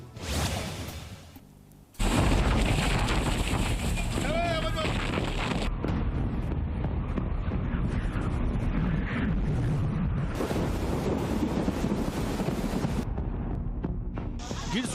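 A violent wind and heavy rain storm sweeping Pandva village in Gir Somnath, Saurashtra: a brief quieter start, then loud, continuous roaring gusts and rushing rain buffeting the microphone, with some voices.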